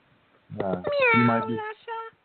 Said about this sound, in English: You might be able to hear the purr.